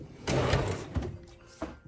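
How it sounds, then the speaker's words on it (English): A plastic drawer from a Whirlpool WRX735SDBM02 refrigerator is pulled out and handled, giving a sliding scrape followed by a few hollow knocks and a final bump, close by, with no talk. "let's go ahead and put this drawer back on right here. So let's pull this out."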